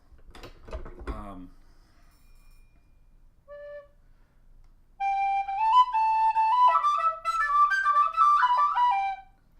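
A tin whistle plays a short melodic phrase of sustained, clear notes, entering after some soft knocking and handling noises and a brief single test note near the start.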